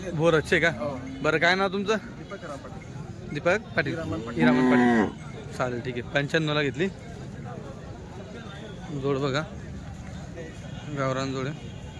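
A busy Khillar bull market in Chalisgaon, Maharashtra: several people shout and talk loudly while bulls low nearby, the calls rising and falling between the voices.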